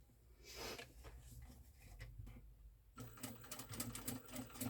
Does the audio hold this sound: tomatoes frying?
no